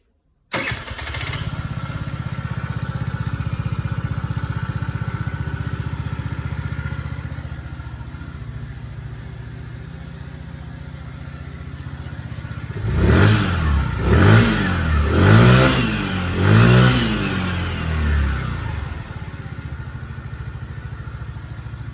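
A Chinese four-stroke 50cc motorcycle engine, upgraded to 100cc, starts and idles steadily nearby, then gets several quick, loud revs before settling back to idle.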